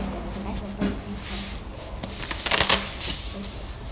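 A plastic toy bag being opened, crinkling and rustling up close in short crackling bursts, with a person talking over it.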